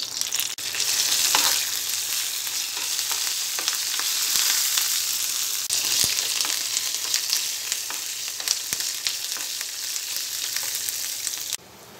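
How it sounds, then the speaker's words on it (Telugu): Mustard seeds, garlic, curry leaves and dried chillies tempering in hot oil in a pan on the stove for a green chilli pachadi, giving a steady close, loud sizzle with small crackles and stirring throughout, no voices. "స్టవ్ మీద ప్యాన్ పెట్టి ఆయిల్ వేసుకోవాలి. ఆయిల్ వేడైన తర్వాత తాలింపు గింజలు,"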